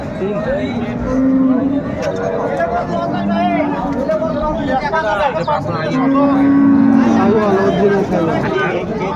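At a busy rural cattle market selling Sahiwal, Sindhi and local dairy cows with calves, a cow lows twice amid loud close talking and a murmuring crowd.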